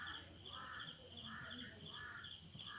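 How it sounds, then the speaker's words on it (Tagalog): Faint, distant crows cawing in a slow repeated rhythm over a steady insect buzz outdoors. "Pati uwak sinusundan ako."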